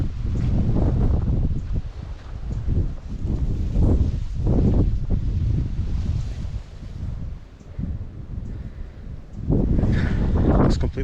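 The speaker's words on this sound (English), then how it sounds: "it's getting quite windy" Strong gusty wind on a misty mountain at World's End, Sri Lanka, roars and buffets the microphone in heavy surges, with brief lulls between blasts.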